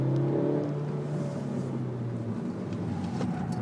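A Suzuki Swift Sport's small 1.6-litre engine revs steadily, its harmonic drone climbing and then settling, heard from inside the car without any talking.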